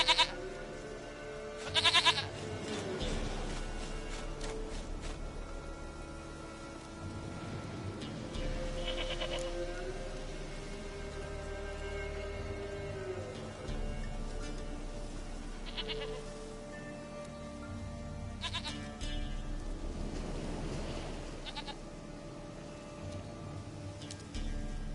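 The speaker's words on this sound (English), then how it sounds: "Goat of mine, dearest, sweetest goat." A goat bleats repeatedly in a Witcher 3 game scene, several wavering calls spread over a steady ambient background, with no talk.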